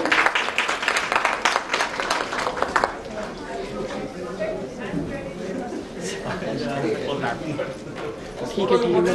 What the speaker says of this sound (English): Can we please have a round of applause for ma'am?